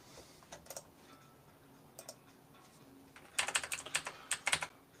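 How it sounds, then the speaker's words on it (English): An old, poorly working computer keyboard clacks in short scattered bursts of typing, quiet at first and then a quicker, denser run of keystrokes near the end, with no talking. "The keyboard I'm using is an old one I have that doesn't work very well."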